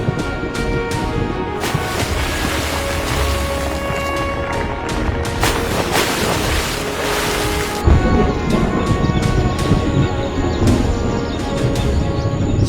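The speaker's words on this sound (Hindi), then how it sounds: "यही वो वक्त है तूफान का।" A dramatic storm scene with steady, loud rain and rumbling thunder, broadband noise filling the whole stretch, with a heavier burst near the end; no voices.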